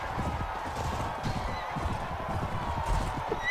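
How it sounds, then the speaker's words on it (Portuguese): Horse hooves galloping in the video game Mount & Blade Warband (Floris Evolved mod), a steady rapid clip-clop drumming throughout, close and fairly loud with battle noise in the background. "Esse cavalo vira muito devagar, velho."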